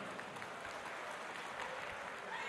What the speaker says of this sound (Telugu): చప్పట్లతో స్వాగతం చెప్పుదాం.